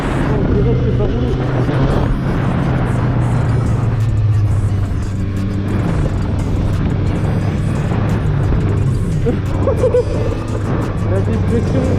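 A Yamaha MT-07 motorcycle engine drones steadily and loudly throughout with a constant low rumble, while people talk over it during the ride.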